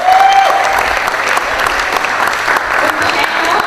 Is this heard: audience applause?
yes